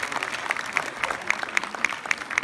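An audience applauding at a film premiere in Lyon, steady clapping from a crowd at moderate distance, with a voice faintly audible over it.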